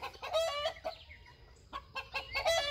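A newly added hen clucks alongside young silver-over-red chicks in a backyard flock, with a few short, close clucks in quick bursts separated by brief pauses.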